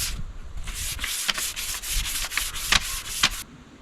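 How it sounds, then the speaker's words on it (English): A diamond willow walking stick is rubbed with 320 grit sandpaper in a quick run of rhythmic back-and-forth strokes, close and fairly loud, with no talking. "we just finished doing the 320 grit sandpaper, and it's already nice and smooth"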